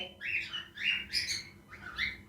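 A young cockatiel breeder pair gives a run of bright, close chirps, four or five quick calls in an uneven rhythm with no talk over them.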